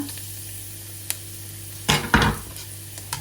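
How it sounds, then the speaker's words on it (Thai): Garlic stir-frying in oil in a pan, a low steady sizzle with a couple of louder bursts of sputtering and scraping as it is stirred, no voices. "ผัดให้กระเทียมหอมค่ะ"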